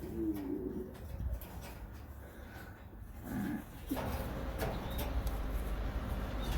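Maltese pigeons kept in cages coo softly and intermittently, a few low calls rising over a steady background hum indoors, moderately close and without speech.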